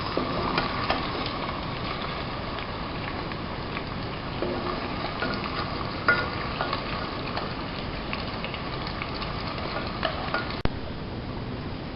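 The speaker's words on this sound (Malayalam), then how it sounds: "മീൻ ഹാഫ് ഫ്രൈ ആയിട്ടുണ്ട്" Fish pieces for a Kerala-style fish moilee fry in hot oil, giving a steady close sizzle with occasional sharper crackles and a faint clink of a utensil near the end.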